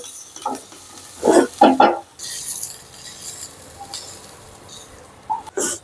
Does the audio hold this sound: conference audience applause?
no